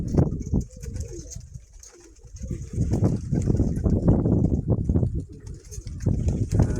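Pigeons coo in a loft, paired birds calling in repeated throaty, rolling bursts close by, with a short lull before the cooing swells again and continues steadily.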